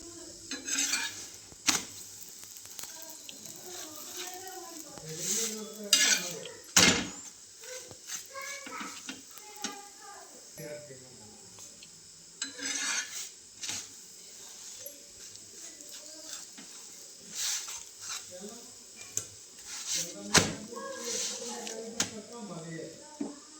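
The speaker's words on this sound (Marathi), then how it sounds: "कणिक मळून घेतली, आता चपात्या करून घेते." Chapatis being made in a home kitchen: scattered clinks and clatters of dishes and utensils, soft scraping and a faint sizzle, with a voice talking now and then.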